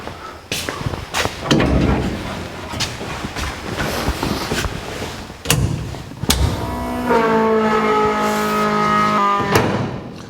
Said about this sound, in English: and turn our fuel pump on.